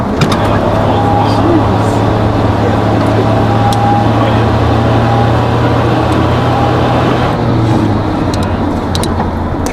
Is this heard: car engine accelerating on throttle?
yes